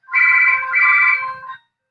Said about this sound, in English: I apologize for my phone ringing